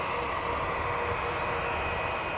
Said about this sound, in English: Jetstar 246 off to Auckland